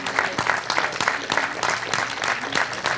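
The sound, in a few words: applause at an award ceremony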